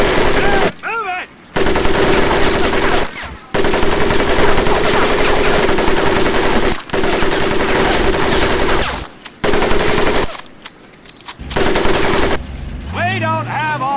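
Sustained machine gun fire from the video game Medal of Honor Pacific Assault during a recruit training course, loud continuous bursts broken by short gaps, with a shouted voice heard near the end.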